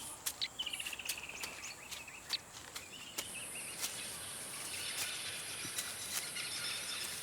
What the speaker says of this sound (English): Her acute hearing tells her that this place is full of appetizing birds.